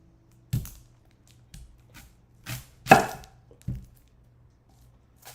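Onions chopped with a knife on a board for a masala curry, six or seven separate close knocks at an uneven pace with quiet gaps between them.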